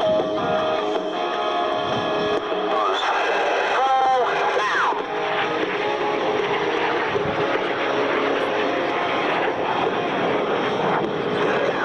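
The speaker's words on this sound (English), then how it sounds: "Listen as the solos establish visual contact prior to the road and a half to inverted pass" Snowbirds solo jets at the 1999 Red Deer airshow rush past in a continuous loud roar, swelling and shifting as they fly by while an announcer talks over the noise.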